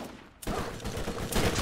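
Gunfire in the Borderlands game: after a short quiet moment, a sudden loud barrage of shots breaks out and keeps going, with a fresh burst near the end.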